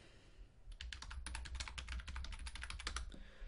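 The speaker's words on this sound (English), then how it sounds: "let's say you type in how to quit smoking" A search phrase typed on a computer keyboard: a quick, close run of crisp key clicks in an uneven rhythm, lasting about three seconds over faint background hum, with no voices.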